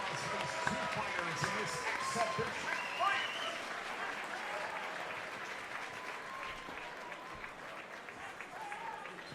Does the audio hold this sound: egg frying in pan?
no